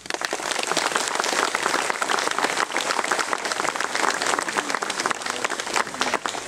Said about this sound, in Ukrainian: Дайте йому оплески.